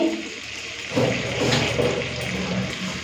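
A tomato is washed under running water, a steady close rush of water that grows louder after a brief quieter start and keeps flowing to the end.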